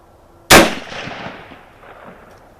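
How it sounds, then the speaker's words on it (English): A single loud rifle shot from a Kar98k Mauser sporter firing Hornady 170 grain round-nose loads, a sharp crack followed by a decaying echo rolling off over about two seconds. "let's shoot at the right target"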